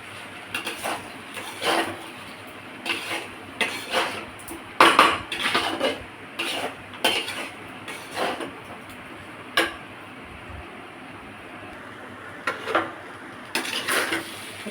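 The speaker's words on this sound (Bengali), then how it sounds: "চিনি দিয়ে আবার একটু নেড়ে নেব" Pulao stirred in a pan with a spoon or spatula after sugar is added, scattered metallic clinks and scrapes against the pan recurring irregularly over a low background.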